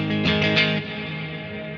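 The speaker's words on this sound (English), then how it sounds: "reverb comes at the end of it. That's called a ducking reverb, or a bloom reverb" A single distorted chord on a Gibson Firebird X guitar rings out, then a ducking bloom reverb swells softly behind it as the note sustains and fades.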